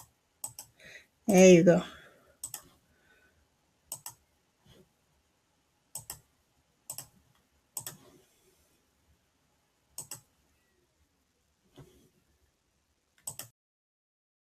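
Computer mouse clicks sound close and crisp during 3D material work on a chess set render, single sharp ticks spaced a second or two apart, with a brief spoken phrase near the start.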